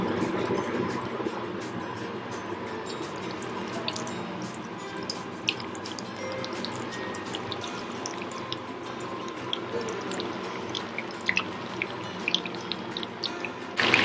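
Chicken cheese rolls frying in hot oil, giving a steady close sizzle with scattered crackling pops throughout and no talking.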